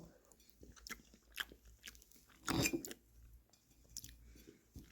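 Close, soft chewing of peach cake with moist squishy bites and occasional crunches, mouth sounds repeating irregularly over a few seconds.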